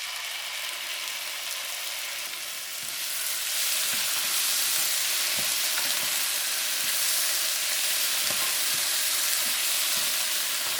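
Shrimp and sugar snap peas fry in oyster sauce and sherry cooking wine in a pan, giving a steady close sizzle with broad hiss that grows louder partway through, with faint stirring clicks and no talking.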